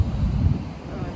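Wind gusts buffet the microphone on a seaside beach with a low, rumbling roar that rises and falls over the sea and faint surf beneath.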